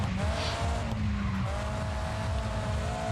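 A race car in the video game GRID 2 brakes hard and slides around a corner, its loud, steady engine roar mixed with scrubbing tire noise throughout.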